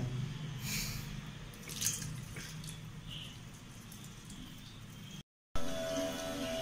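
Inlet water trickling and dripping into the cleaning unit of an automated rice cooker after a solenoid valve opens, a steady close splashing flow with a brief dropout near the end.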